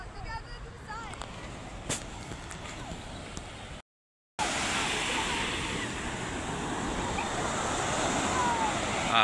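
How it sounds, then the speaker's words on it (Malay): Strong sea waves roar steadily at Pantai Puteri beach in Melaka, a broad, continuous wash of surf with wind noise, briefly cut off partway before resuming louder. "Kita tengok ombak tu kuat ni"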